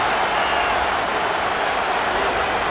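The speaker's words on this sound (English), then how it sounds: "The crowd at Arrowhead roaring." Stadium crowd at Arrowhead in the Madden NFL 25 video game, during a Raiders-Chiefs match. A loud, even wall of roaring crowd noise holds steady throughout, with no breaks.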